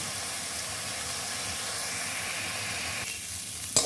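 Dried fish sizzles and hisses in a pan with garlic and black cumin, a steady broadband frying hiss with no talk and a brief clatter at the very end.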